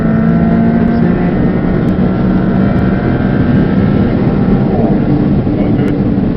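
A 630-horsepower rear-wheel-drive Maserati MC20 on a track, its engine droning loud and steady as it pulls under power, with a constant roar throughout.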